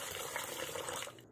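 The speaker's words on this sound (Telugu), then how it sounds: "వాటర్ వేసేసి" Water poured over washed black gram (urad dal) in a kitchen, a steady close splashing fill that runs briefly, then cuts off.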